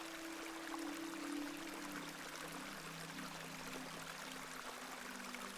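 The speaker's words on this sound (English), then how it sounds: "I do enjoy the charm of a babbling beck." A babbling brook of icy cold water in a video game runs as a steady, even wash of trickling water, continuous and moderately close, with a low tonal hum underneath and no voices.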